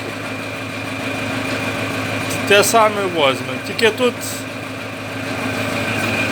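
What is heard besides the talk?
homemade generator engine running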